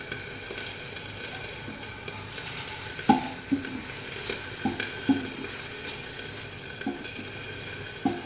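Prawns fry in a pan for a spicy prawn walnut chutney, giving a steady bright sizzle throughout with a few sharp utensil taps and stirring scrapes at irregular intervals, close and moderately loud, with no talking.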